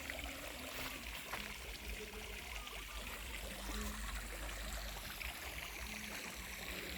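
Water flows steadily into a rice paddy being prepared for dry-season rice, a continuous, fairly loud rushing trickle with gurgling, heard alone and unchanged throughout.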